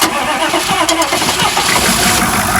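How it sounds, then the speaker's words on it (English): A cold 6.5-litre turbo diesel engine cranks and catches, a loud, rough, clattering rumble that runs continuously and close throughout, with no voices. "Crank it up. It's running."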